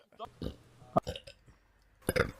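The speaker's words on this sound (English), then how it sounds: "With a slight burp in there." A woman burps softly a few times in short, quiet bursts, mixed with faint vocal sounds and small clicks.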